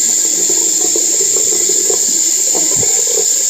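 Tap water runs steadily into a sink while a child rinses her mouth, a constant close hiss with faint splashes and a brief low thump near the end.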